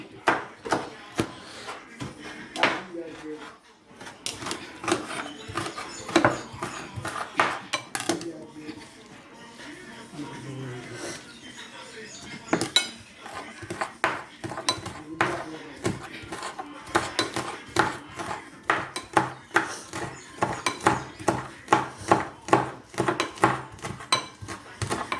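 Vegetables for accras being chopped on a board, a long run of close, rapid knife strikes in uneven bursts, with a short pause midway and some voices underneath.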